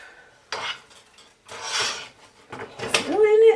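Mixed vegetables being stirred in a pan for a quick Asian stir-fry, with clattering scrapes and clinks of a utensil against the pan in separate bursts, close by, ending with a brief ringing tone.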